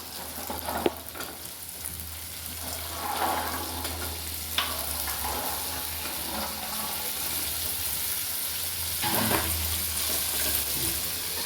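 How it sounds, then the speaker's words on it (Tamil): Onions, tomatoes and turkey berries sizzle and fry in a pan for a Tirunelveli-style tamarind gravy, a steady soft crackle with occasional stirring scrapes and clinks, no talking. "ஒரு ரெண்டு நிமிஷம் நல்லா வதங்கட்டும் ஃப்ரெண்ட்ஸ் வெங்காயம் தக்காளி எல்லாமே நல்லா வதங்கிட்டு"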